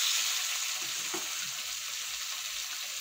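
Cluster beans (kapsi gavar) drop into hot oil already frying chili and garlic, giving a steady, close sizzle with a brief stirring clatter partway through and no voices.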